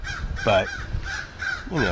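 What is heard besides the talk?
birds calling in the background, crows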